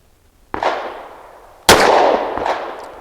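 Sig 365 compensated pistol with an XL slide firing over a chronograph outdoors, two sharp loud shots about a second apart, each followed by a long decaying echo.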